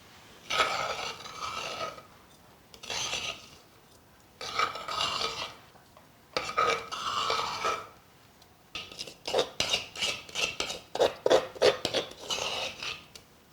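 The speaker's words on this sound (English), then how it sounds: "Next, we are going to mix all our ingredients." Kutia ingredients being mixed in a deep dish: repeated scraping, rasping strokes in short bursts with pauses, quickening into faster choppy stirring near the end, fairly quiet and close.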